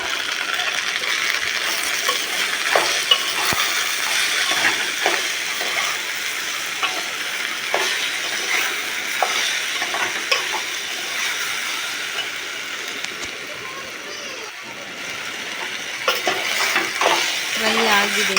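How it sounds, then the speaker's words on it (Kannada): Chopped okra frying in a pan for a South Indian palya, a steady sizzling hiss with repeated scraping and clinking of a spatula as it is stirred, close and continuous. "ಸ್ಮೂತ್ ಆಗೋವರೆಗೂ ಫ್ರೈ ಮಾಡಿ"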